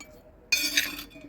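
Crushed stones mixed with calcium chloride tip into a glass jar in one short burst of clinking and rattling lasting about half a second, set against quiet surroundings.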